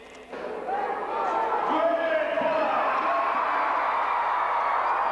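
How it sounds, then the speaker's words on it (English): A large arena crowd at a 1989 Bigfoot monster truck show roars and cheers in a dense, sustained wash of voices that swells just after the start and stays loud throughout. "The crowd cheering the king of the monster trucks, Bigfoot."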